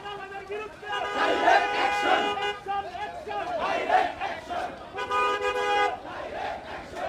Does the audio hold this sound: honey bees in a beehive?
no